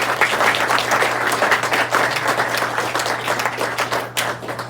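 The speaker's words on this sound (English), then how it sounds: "If you could give them a round of applause." An audience at a meeting gives a round of applause, many hands clapping fairly close and loud, with a few sharper individual claps standing out over a low steady hum.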